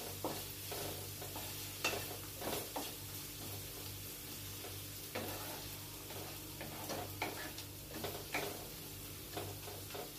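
Chopped onion fries in a pan with a steady sizzle beneath, broken by scattered clicks and scrapes of stirring spread through the passage, fairly close and with no talking.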